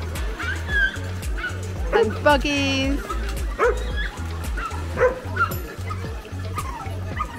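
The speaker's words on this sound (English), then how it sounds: "lots of excited dogs." Excited dogs at a parkrun near Fountains Abbey yip, bark and whimper repeatedly at close range, high eager cries over a steady thumping beat, with a person talking briefly among them.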